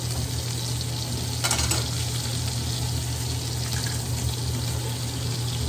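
Garlic frying in butter in a pan over medium to medium-low heat, a steady close sizzle with a brief louder burst of crackle as the garlic goes in, no talking.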